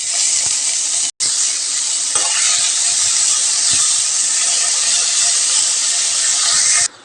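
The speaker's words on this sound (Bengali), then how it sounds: "মরিচটা একটু ভাজা ভাজা হয়ে আসলে এর মধ্যে অ্যাড করে দিব বাঁধাকপি" Cabbage hits hot soybean oil with fried chillies, giving a loud, steady, close steaming hiss that drops out briefly near the start and then continues until a sudden stop.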